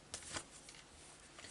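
A tarot card slides out from a deck with a soft papery swish and a couple of brief flicks, close and quiet, with no talking.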